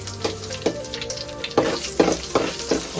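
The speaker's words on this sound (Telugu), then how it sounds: "బాగా కాగిన తర్వాత జీలకర్ర వేసిన తర్వాత మిక్సీ పట్టుకున్న పచ్చడి దీంట్లో వేయాలి" Gongura chutney with cumin fries in hot oil, a close, steady sizzle broken by several sharp bursts of spattering as the paste is stirred and scraped around the pan.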